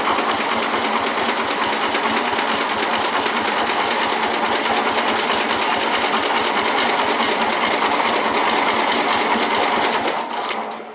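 A Suburban engine being cranked on a hard cold start, a loud, steady, rapid mechanical chugging that runs continuously for about ten seconds before cutting off abruptly.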